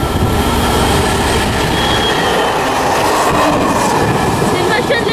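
Train with a locomotive hauling wagons rolls past near a station, a loud continuous rumble with rattling wheels and faint squeals.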